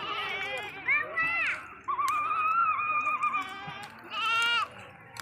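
Goat bleating in a rural Maithili comedy scene, several wavering nasal bleats repeated over a few seconds, close and fairly loud, with people talking around them.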